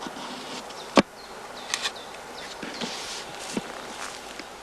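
Honey bees hum steadily around heather skeps at an apiary during cast swarming, with a sharp click near the start and a few faint knocks and rustles scattered through the buzz.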